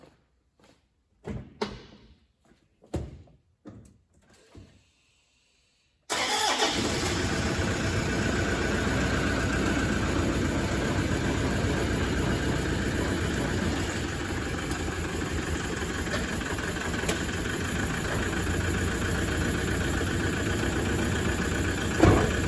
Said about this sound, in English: we'll try and get the engine started